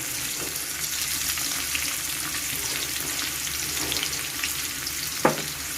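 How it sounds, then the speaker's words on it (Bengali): Oil sizzling in a wok heated for cooking fish, a continuous bright frying hiss with faint crackles and one sharp clink of a utensil near the end, no talking. "তারপর আমি মাছ রান্নার জন্য কড়াইতে তেল দিলাম"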